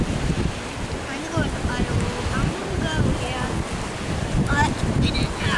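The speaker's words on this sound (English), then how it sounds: "So windy, but who cares?" Strong wind blowing outdoors while sausages cook, a loud continuous rumbling buffet against the microphone with gusty swells and faint voices underneath.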